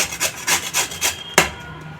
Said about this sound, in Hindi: ऐसे ही गाजर को घिस लेंगे हम, सारा गाजर।